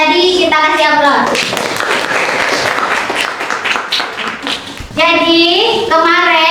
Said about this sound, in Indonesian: Dan untuk jawaban yang tadi kita kasih aplaus.